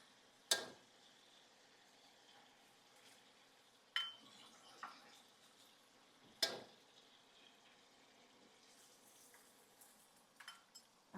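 Eggs fry in a pan for pad thai with a faint, steady sizzle, broken by a few sharp clicks spaced several seconds apart.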